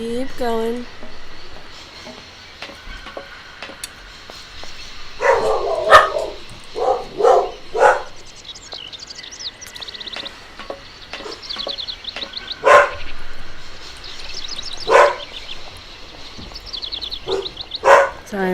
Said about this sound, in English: Sorry about the dogs.